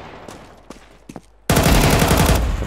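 Gunfire in Counter-Strike 2 during a Dust 2 deathmatch: a few scattered distant pops, then a sudden loud, sustained burst of rapid automatic fire close by.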